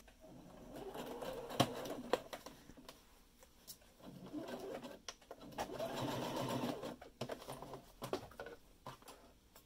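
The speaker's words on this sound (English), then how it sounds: "take it to the machine and sew it down to secure it even more" A sewing machine stitching elastic down to secure it runs in short, close bursts of rapid mechanical whirring, separated by pauses with light clicks and handling noises, and no one speaks.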